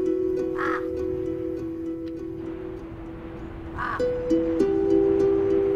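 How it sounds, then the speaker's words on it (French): Crows cawing near a tented camp on a terrace inside the Nyiragongo volcano crater, a few harsh calls in two bursts over a steady low hum, moderately near. "Seule trace de vie animale dans le volcan, des corbeaux viennent glaner près des tentes quelques miettes de nourriture."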